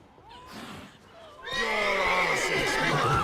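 A horse in The Witcher 3 video game neighs loudly, a long wavering whinny that swells and holds near the mic, following a fainter cry and talk from a man.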